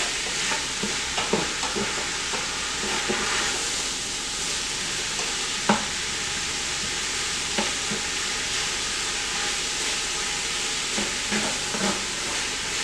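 Sausage browning in a hot pan, giving a continuous bright sizzle and crackle with occasional spatula scrapes and stirring clinks, steady and fairly close, with no talking.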